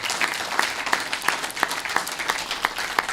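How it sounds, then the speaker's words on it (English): An audience at an AI summit in Saint Lucia applauds its presenters, a crisp burst of many hands clapping with a few sharp individual claps standing out, close and lively. "let's give all our presenters a round of applause"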